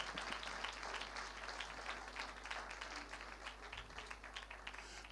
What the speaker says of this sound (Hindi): रूफन के लिए जोरदार तालियां